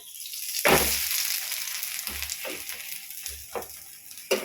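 A flipped wheat flatbread cooking on a hot pan, with a soft constant sizzle and several low thumps and pressing sounds at intervals, with no talking.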